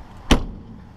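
Aluminum-clad, riveted entry door with a window on an Airstream Flying Cloud 30FB travel trailer shutting in a single sharp, close thump, followed by brief quiet room tone.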